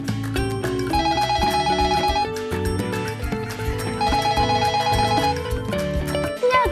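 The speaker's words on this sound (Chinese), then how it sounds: "第一个是电话的声音" A telephone rings with a bright, melodic repeating ringtone, loud and close, its phrases cycling steadily with a busy musical backing and no pauses.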